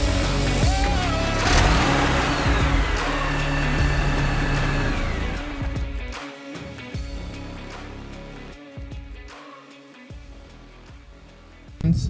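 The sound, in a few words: BMW E46 or Fiat 500 car engine revving at drag strip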